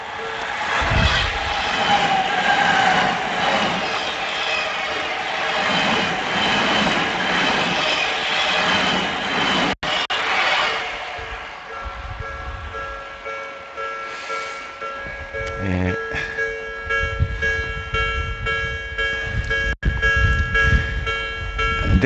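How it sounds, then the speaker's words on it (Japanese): Commuter train pulling into a station in Japan, its rumble and clatter drawing steadily nearer and louder, then slowing with squealing brakes and steady tones; no one speaks over it. "あ、電車来ましたね、"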